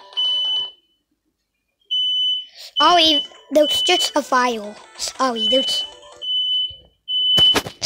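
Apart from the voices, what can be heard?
fire alarm beeping from kitchen cooking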